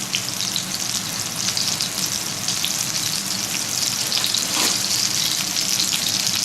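Meat sizzles steadily in a hot pan in a restaurant kitchen, a constant loud frying hiss with crackling spatter and no voices.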